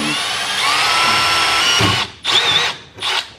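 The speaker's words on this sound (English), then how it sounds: "Drill some holes." A power drill bores holes during a build, first as a loud, close, sustained high whine, then as two shorter bursts that spin up and stop.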